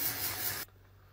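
Hair dye spray hissing from an aerosol can in one steady close burst that cuts off abruptly, leaving quiet room tone.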